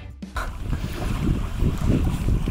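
Wind buffets the microphone in steady gusts while fishing on a lake, a continuous loud rumbling roar with no speech.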